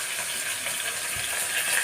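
Chopped onion frying in a pan with fennel seeds, a continuous soft sizzle and hiss heard close up with a faint stirring movement, no voices.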